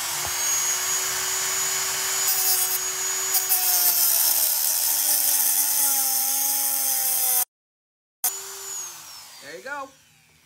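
A power drill removing a screw whines steadily at close range, its pitch sliding as it works, then cuts out briefly before a short final burst and a voice.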